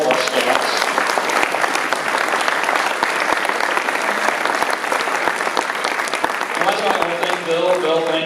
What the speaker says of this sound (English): How about a round of applause for all of our scouts?